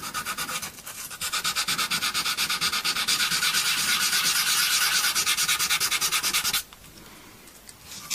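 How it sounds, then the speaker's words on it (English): Steady rapid back-and-forth rasping of hand sanding on metal guitar potentiometers, loud and close, continuing for several seconds before stopping abruptly. "so do a little quick bit of sanding on these pots"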